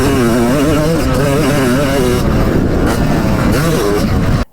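A vintage Yamaha YZ 250 two-stroke motorcycle engine runs loud and close, its buzzing note rising and falling with throttle blips before cutting off abruptly at the end.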